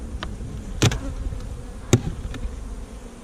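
Honey bees buzz around a hive set up on a farm, a steady low drone with a few louder sharp passes as bees fly close to the recorder; no talking.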